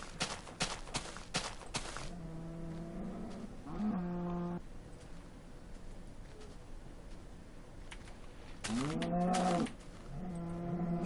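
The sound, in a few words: cows mooing in a video game (Minecraft Alpha)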